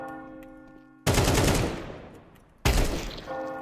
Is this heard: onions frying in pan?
no